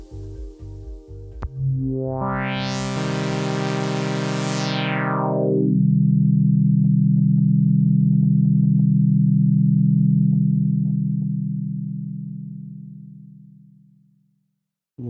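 A Surge XT software synthesizer in paraphonic mode plays three quick notes that swell into a sustained, bright chord with a sweeping filter, held steadily before fading out.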